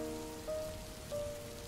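Cartoon rain pours in a steady, dense hiss on surfaces, with a faint tonal hum beneath and no speech.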